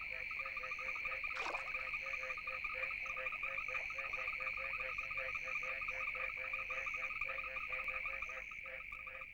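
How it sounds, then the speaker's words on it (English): A dense chorus of frogs calls at night during the African rains, a steady pulsing trill with overlapping croaks and a sharp nearby call early on, continuous and loud against a constant insect-like hum. "each night during that period, the frogs will emerge to feed, call, mate"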